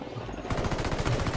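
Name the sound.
gunfire in the video game Spec Ops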